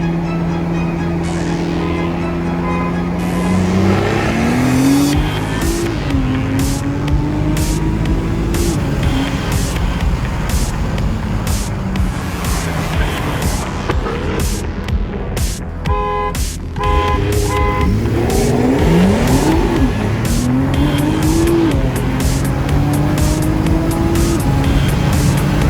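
A Nissan GTR and a Jaguar F-type R accelerating hard in a race, with engines climbing through rising pitch sweeps, gear shifts, an interruption midway, and a sustained loud, close roar.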